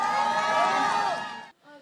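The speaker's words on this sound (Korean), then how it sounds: "집회 참가자들은 연신 감탄사를 터뜨리며 환호성을 올렸습니다" A rally crowd cheering after a high school student's speech, a loud, sustained wash of voices and whoops that fades off after about a second and a half.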